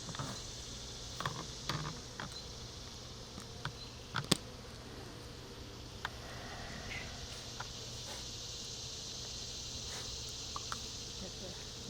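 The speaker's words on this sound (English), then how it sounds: "And there's a lot of bees in the grass right now" Bees buzz softly and continuously in the grass outdoors during a hive inspection, a faint steady hum broken by a few sharp ticks and light taps.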